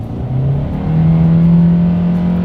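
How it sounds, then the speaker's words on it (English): A 2021 Hyundai Accent accelerates hard, its engine droning loudly and steadily as it winds up to high RPM, heard close and continuous from inside the car. "Dang, winding out these RPMs."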